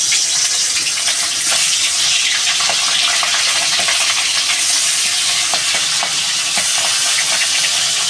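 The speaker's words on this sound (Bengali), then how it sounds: "তো তেলটা আমার গরম হয়ে গেছে, মাছ দিয়ে দেবো।" Hilsa fish fry in hot oil with a loud, continuous, close-up sizzle and spatter, a steady hissing crackle that holds for the full length with no talking.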